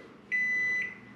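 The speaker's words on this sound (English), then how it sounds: "I can actually run a microwave off of this." Microwave oven powered by a solar generator gives a single steady electronic beep of about half a second, clear over a low hum of the running appliance.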